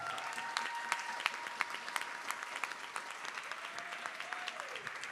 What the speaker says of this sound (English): Give a round of applause for all four of the panelists and Rafael.